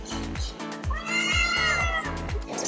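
A giant cat display screen at Shinjuku East exit in Tokyo plays a drawn-out meow over a rhythmic, thumping street soundtrack, loud and steady in the busy city setting.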